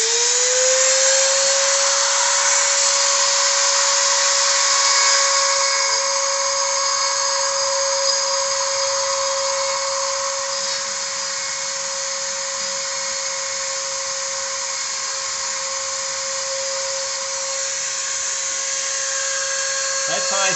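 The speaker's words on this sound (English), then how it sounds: "Here's the Dremel tool." A Dremel rotary tool carves a wooden cross, its high steady whine holding a near-constant pitch for the whole stretch, loud and close, with a slight drop in load partway through as the bit bites the wood.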